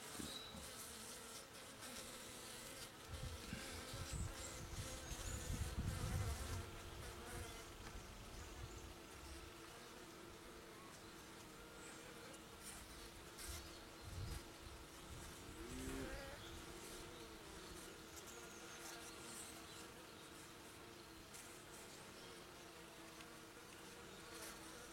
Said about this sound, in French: Vous voyez, pas de réaction particulière des abeilles.